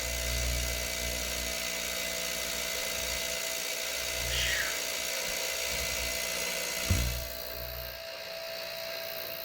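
An ultrasonic cleaner runs with a steady, close electric hum and hiss while cleaning tools caked with years of grease and grime, then cuts off shortly before the end.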